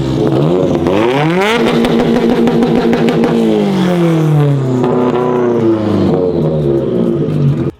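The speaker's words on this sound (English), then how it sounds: "we have to be rolling and able to get it to redline and make the actual like cool limiter noise" Subaru WRX engine, roof cut off, revving hard while rolling up to redline and bouncing off the rev limiter, with a rising and falling harmonic engine note, loud and close, and no talk over it.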